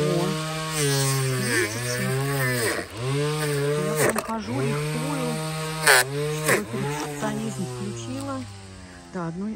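An electric grass trimmer runs steadily while garden paths are mowed, its motor whine holding a constant pitch that dips briefly as the cutting line bites into growth, with someone talking over it throughout.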